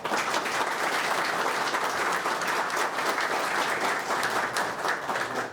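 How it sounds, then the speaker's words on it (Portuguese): An audience in a municipal chamber applauding Dr. Marivaldo at an award ceremony, sustained loud clapping from many hands throughout. "Uma salva de palmas para o Dr. Marivaldo."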